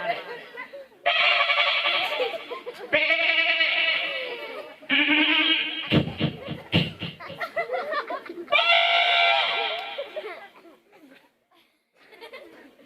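A voice imitates a goat bleating in loud, wavering, nasal bursts, several in a row with short gaps, amid comedic Gujarati talk and laughter.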